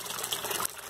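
A small aquarium pump returns water into a tank with a steady close trickling and splashing, with a brief surge partway through.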